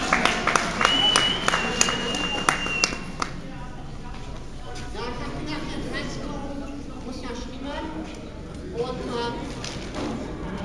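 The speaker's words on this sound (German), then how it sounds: "Applaus für den Krawattenmann." An audience at a live stage performance breaks into applause for a performer, a dense burst of clapping over the first few seconds that quickly gives way to someone talking over a quieter room.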